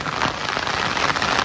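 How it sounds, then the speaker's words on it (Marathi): Monsoon rain falls steadily on a hilltop above a lake during a waterfall trek. It is a dense, even patter of drops, close and loud, with no voices. "पाऊस आत्ता चालू झालाय,"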